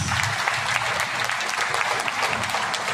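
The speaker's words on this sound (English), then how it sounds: "Let us give them a round of applause." An audience at a school graduation and completion ceremony claps steadily, a dense, even round of applause lasting about three seconds.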